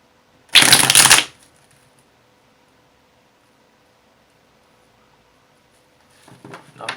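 Tarot cards are shuffled in a short, crisp burst of riffling, close and loud, then near silence, and a second softer shuffle begins at the end.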